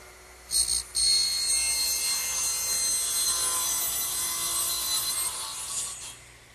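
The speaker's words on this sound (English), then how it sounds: "I might as well cut my shelves, which will be 34 3/8 inches" A hand saw cuts through wooden bookcase shelf boards, a steady rasping back-and-forth stroke heard close and alone, with a couple of sharper bursts at the start before settling into even sawing.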